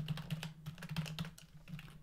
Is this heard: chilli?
no